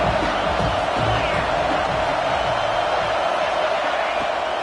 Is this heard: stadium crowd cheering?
yes